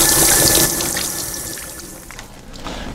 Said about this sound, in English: Let me wash my hands with soap and water